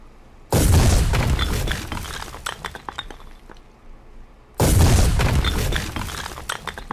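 Two loud, booming explosions in the war game Foxhole, a few seconds apart, each hitting hard and trailing off into crackling, glassy debris and rattling fragments, with no voices.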